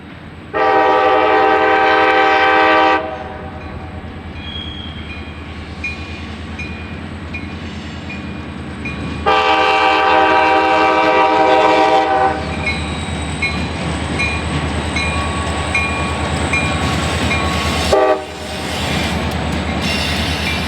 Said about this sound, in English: The short Y310 from the CN is on the final stretch of its journey back to Barr behind two more SD40-2s, the leader being the former Conrail 6370